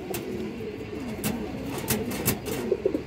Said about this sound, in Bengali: আরো একটা মাদি কবুতর